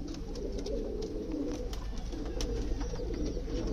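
Pigeons coo steadily in low, throaty murmurs, close by, with several birds overlapping into a continuous rolling drone.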